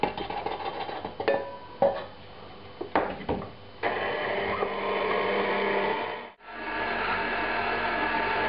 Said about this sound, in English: Now just back onto the mixer with more flour.